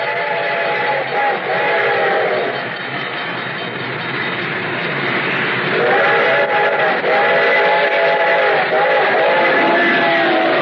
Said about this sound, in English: The train was coming closer. I could hear its bell ringing and the cry of its whistle.